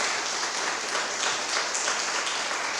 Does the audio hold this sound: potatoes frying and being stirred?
no